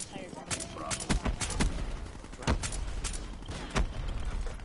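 Dracon sniper rifle shots in a video game, several sharp, loud cracks at uneven intervals with booming low tails, mixed with game sounds and players talking.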